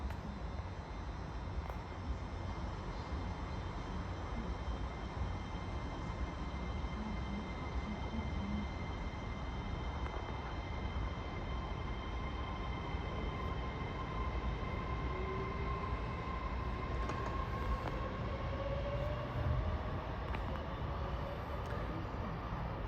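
A Class 807 Evero electric train, unit 807004, pulls away from Lichfield Trent Valley toward London Euston with a steady, rumbling drone and rising whine, moderately distant and continuous for the whole stretch.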